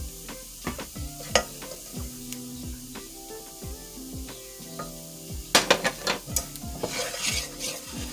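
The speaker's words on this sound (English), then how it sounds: "Just mix that all up in here." Vegan mac and cheese being stirred in a pot with nutritional yeast and salted water, a steady scraping swirl with repeated spoon knocks against the pot, growing louder and busier near the end.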